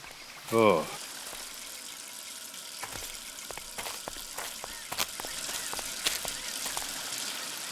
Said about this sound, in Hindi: यहाँ पे पानी की पाइप फटी हुई है।